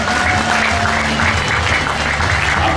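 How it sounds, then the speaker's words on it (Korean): Dense, sustained clapping fills a hall at a music awards ceremony, loud and continuous as the audience honors a legendary composer, with a low musical tone underneath. "다시 한번 여러분 뜨거운 박수 보내 주시면 대단히 고맙겠습니다"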